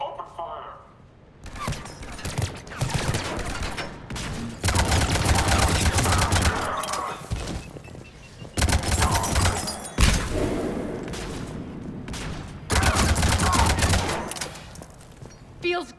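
Enemy gunfire in the game Mass Effect 3, rapid automatic bursts in several loud volleys separated by brief gaps, with voices speaking between them.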